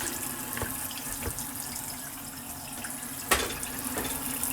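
Boiled potatoes, about six to eight of them, draining in a kitchen sink, with a steady low wash of running water and a few brief splashes and clunks, heard alone at moderate level.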